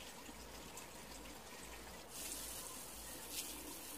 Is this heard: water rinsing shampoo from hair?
yes